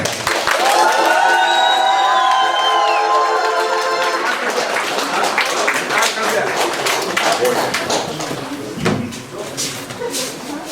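A crowd at a wedding bursts into loud applause and cheering for the first dance, with dense clapping filling the space and voices rising over it throughout.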